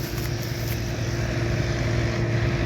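A combine harvester engine runs at a steady, even drone, moderately quiet and continuous with a constant low hum and no knocking; no one speaks.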